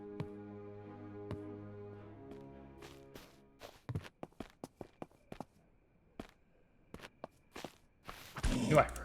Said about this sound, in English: I knew I've heard stomping around.